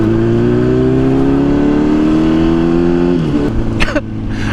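A Honda Grom motorcycle on the freeway drones with a loud, steady engine hum that climbs slightly in pitch, then drops and shifts near the end amid wind buffeting and brief clatter.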